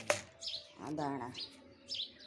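Birds chirp around a grain feeder set out with seed, a few short, faint tweets and calls in quick bursts, with a soft cooing note mixed in.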